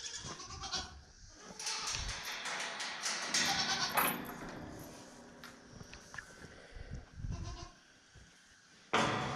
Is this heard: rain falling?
no